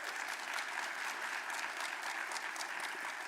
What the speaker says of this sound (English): Give your president a round of applause.